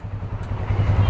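A Polaris 570cc four-wheel-drive off-road vehicle with independent suspension drives along, its engine a steady low rumble that swells slightly toward the end, with no voices over it.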